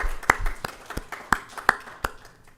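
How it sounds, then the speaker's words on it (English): Scattered handclaps from an audience at a library talk on unsolved civil rights era murder cases: about six sharp, separate claps spread unevenly over a couple of seconds, sparse and moderately close, with no talking. "Yeah, that's a good thing to clap about."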